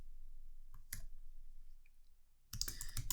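Computer keyboard typing comes as a brief click, a pause, then a quick burst of keystrokes near the end, close and fairly quiet.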